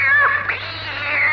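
A cat yowls and caterwauls in a film fight scene against a cobra, a drawn-out wavering cry that rises and falls, loud and close, with no talking over it.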